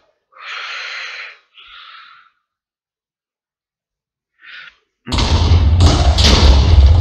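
House blowing up in the demolition game Total House Bombover, a sudden loud explosion with a deep rumbling roar and crackling debris after several quiet breathy puffs and a silent pause.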